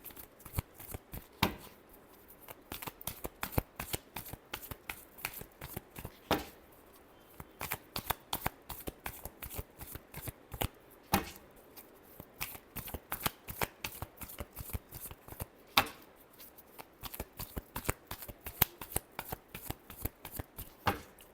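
Tarot cards being shuffled by hand, loud close riffling bursts repeated in quick rhythmic runs with brief pauses between them, no speech.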